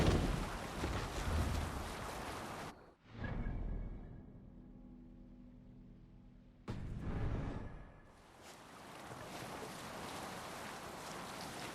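A sailing ship at sea in Assassin's Creed Odyssey, with broad wind and water rush, a quieter lull in the middle, then steady sea and wind noise returning.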